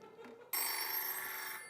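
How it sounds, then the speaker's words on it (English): Old-fashioned telephone bell ringing, a bright, continuous metallic trill that bursts in suddenly after a quiet murmur and rings steadily at close range for over a second. "Did somebody leave this really old-timey phone here?"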